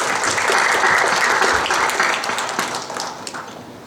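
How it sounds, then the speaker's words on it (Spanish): Steady applause from an audience at an academic presentation fills the room, loud and continuous before gradually thinning out. "Un aplauso, por favor."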